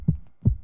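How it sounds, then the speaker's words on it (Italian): A heartbeat effect in a pop song gives two deep, muffled thumps, then a short pause and a third thump, close and low. "Sento il battito che mi fa:"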